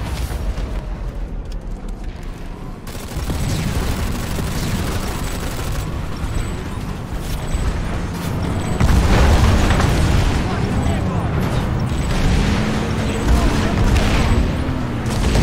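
Heavy tank cannon fire from an enemy Vanguard tank in Planetside 2, booming impacts and explosions layered over dense battlefield rumble and engine noise, continuous and loud throughout.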